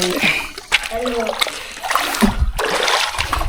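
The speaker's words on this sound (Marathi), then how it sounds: "इथं एक छोटासा झरा आहे त्यातून ना चांगलं पाणी भेटतं" Water from a small mountain spring splashes and trickles close by, with a voice and other speech rising over the watery spatter in short bursts.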